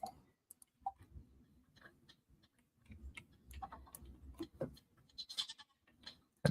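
Goats bleating in the farming game Stardew Valley, a few short cries scattered among soft ticking and quiet game ambience, with no talking over them.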